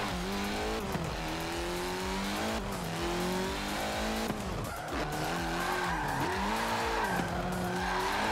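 Car tires skid and squeal under handbrake in Forza Motorsport 7, with a steady engine drone and sliding pitch sweeps running continuously for several seconds, loud and close, with no talk.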